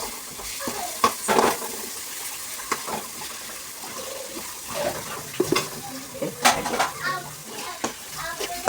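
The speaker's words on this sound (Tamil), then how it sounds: "கேரட்டு வதக்குறாங்க. அதை போட்டு கொஞ்சம் வந்து நல்லா வேக வரைக்கும் வதக்கும்." Carrots being sautéed in a pan for fried rice give a light sizzle, broken by repeated clatters and scrapes of a utensil stirring against the metal, with a watery, running-tap quality in the background.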